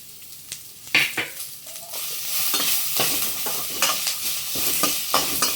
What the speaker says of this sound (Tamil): இதெல்லாம் ஒன்றா சேர்த்து நல்லா வதங்கிட்டேன்